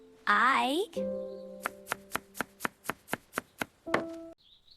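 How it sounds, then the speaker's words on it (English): A knife chops tomatoes on a board in ten crisp, evenly spaced strokes, loud and close, with a voice speaking just before the chops. "I chop tomatoes."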